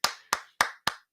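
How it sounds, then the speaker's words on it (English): Hands clap sharply five times in a steady, evenly spaced rhythm, each close and crisp with a quick decay, no voices. "I'm clapping for myself."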